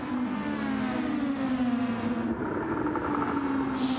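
Steady whining race car engines drone continuously, pitch sliding slightly as they rev, with a constant rumbling background throughout.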